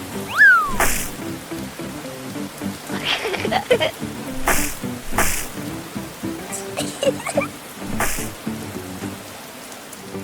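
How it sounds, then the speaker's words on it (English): Steady rain patters and splashes close by, with scattered brighter drips and a few short squeaky or whistling sounds over the wet background. "The rain fell pitter-patter, forming big puddles all over the ground."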